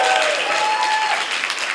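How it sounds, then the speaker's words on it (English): A benefit gala audience at the Sarah Siddons Award event applauds, a dense, sustained roar of clapping with a faint voice or tone briefly carrying over it. "give her a round of applause, Joan"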